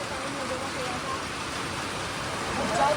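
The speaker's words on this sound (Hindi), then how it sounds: "बारिश और ज़्यादा तेज़ हो गई है" Heavy rain makes a dense, steady hiss that swells slightly toward the end, with a low rumble that could be passing traffic beneath it.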